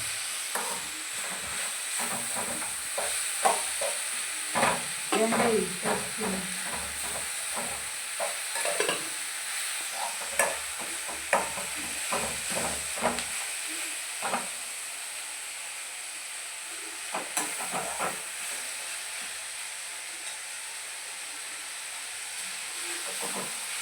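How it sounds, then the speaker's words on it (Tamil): Crushed ginger garlic paste sautés in a pan for roadside-style parotta salna. Steady hissing sizzle with frequent spatula scrapes and taps, busier in the first half and calmer toward the end. "இந்த இஞ்சி பூண்டு பேஸ்ட் நம்ம இடித்து வச்சுருக்கிற அதை போட்டுக்கலாம் அதை போட்டு நல்லா வதக்கி எடுத்துக்கலாங்க"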